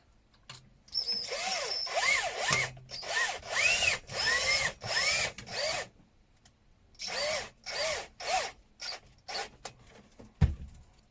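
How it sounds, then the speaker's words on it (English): A cordless drill screws wood and plastic parts of a homemade puddle sucker together in a series of short, rising whirring bursts with brief pauses, close and loud, ending with a clunk. "now all of this should screw together"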